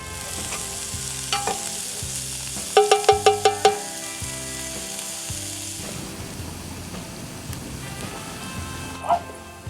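Shakshuka cooking in a pan over a campfire at night gives a soft sizzle with light stirring and clinks; a short series of bright metallic taps rises midway, and a voice is heard now and then.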